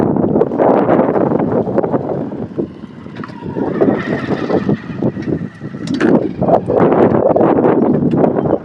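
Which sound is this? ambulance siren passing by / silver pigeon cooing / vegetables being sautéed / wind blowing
wind blowing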